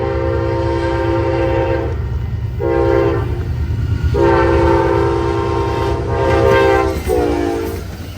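An Amtrak Texas Eagle passenger train led by heritage locomotives passes close by, sounding its horn in a long blast followed by several shorter ones over a continuous rumble of the train.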